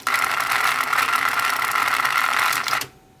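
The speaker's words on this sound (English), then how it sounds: "There was a mysterious rattle" A continuous, fast mechanical rattle from the worn mechanism of a Denon DRR-M7 stereo cassette deck, close and steady for nearly three seconds before cutting off abruptly.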